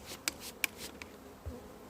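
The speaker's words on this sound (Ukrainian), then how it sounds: "І бджоли не дуже сьогодні ведуть себе адекватно." Honeybees at a hive hum faintly throughout, agitated in late-afternoon overcast weather, broken by a few sharp clicks and knocks nearby.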